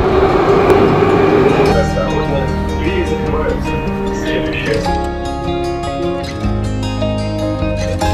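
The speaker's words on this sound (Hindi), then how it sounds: "क्योंकि मेरा ट्रेन आ गया है।" A Moscow metro train pulls into a station, its rumble and whirring motor tones changing as it slows, with a busy platform atmosphere around it.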